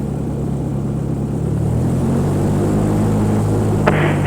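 Cessna light airplane taking off from runway 34 at Renton: a steady, loud propeller engine drone heard from inside the cabin, with a brief click near the end.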